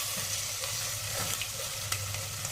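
Spices with ginger-garlic paste, kasuri methi, cinnamon and cloves fry in oil in a pan for a brinjal, raw mango and mutton curry, giving a steady close sizzle with light stirring scrapes.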